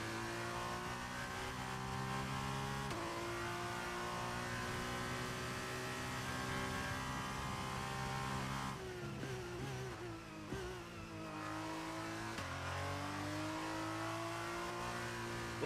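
A race car engine in the Braking Point 2 racing video game revs and holds a high whine, dropping and climbing through gear changes and braking around the middle before rising again, loud and steady with no talk.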